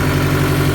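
A freshly rebuilt car engine running at idle just after starting, a loud, steady, close rumble with an even low throb and no voices, over in under a second.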